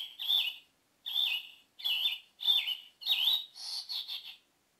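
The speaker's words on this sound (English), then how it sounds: "So that's the bird song." A Holife digital alarm clock plays its bird song alarm: five or six short chirping phrases of bright, whistled tweets separated by brief silences, clean and fairly quiet with no talking.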